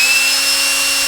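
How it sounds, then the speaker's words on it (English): A power drill boring a hole in a small plastic enclosure, a loud, steady high whine with a constant tone throughout, close up and alone. "my finger on the drill bit to try to keep it from walking around when you first start drilling"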